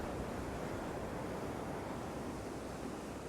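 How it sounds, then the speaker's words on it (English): Sloppy ocean surf washes onto a beach under onshore wind, a steady, fairly faint roar of breaking waves with no voices. "Very sloppy surf as well."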